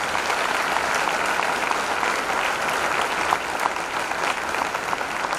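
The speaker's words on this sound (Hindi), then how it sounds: "तालियों की गड़गड़ाहट से पता चलना चाहिए" A large audience at a Jain monk's public entry ceremony in Pune breaks into dense, sustained applause, a thick roar of many hands clapping at once that stays loud and unbroken throughout.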